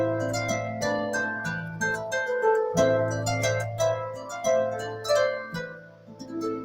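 Plucked baroque flamenco harp plays a melody: bright, ringing notes in a flowing rhythm over sustained low bass strings, with each pluck decaying into the next, close and clear with no talking.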